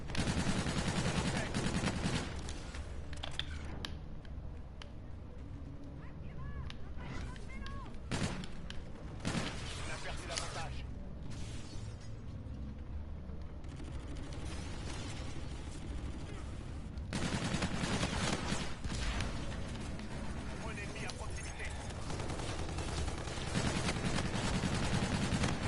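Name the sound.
gunfire in the video game Infinite Warfare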